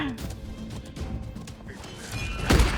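An explosion bursts out near the end of a hectic Paladins match, a short loud crash rising over scattered game noise and clatter.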